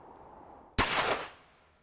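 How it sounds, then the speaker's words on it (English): A single sharp gunshot from a CHAOS;HEAD NOAH visual novel cracks out loudly against a quiet night-wind backdrop, then decays in a short echoing tail. "Then, Ban heard a gunshot."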